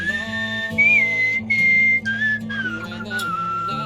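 A character whistles a melodic tune in the game Where the Water Tastes Like Wine, clear and steady, over a low sustained musical backing, with a few short gaps between phrases.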